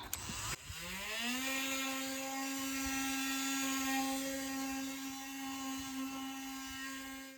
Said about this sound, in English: Nice little kit for sanding with a Dremel.